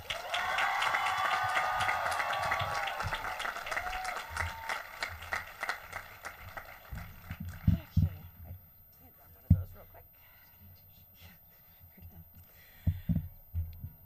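Graduation crowd applauding a speaker at a high school ceremony: dense, loud clapping that fades over several seconds into scattered claps and thumps, with a voice starting to talk near the end.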